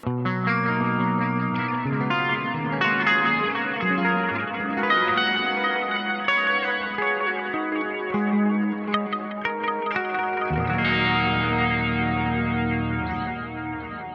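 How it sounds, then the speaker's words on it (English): BOSS RE-202 Space Echo delay with chorus placed after the effect, shimmering repeating guitar tones with a warbling modulation and trailing echoes, loud and continuous, with no talking. "Moving the chorus after the effect now."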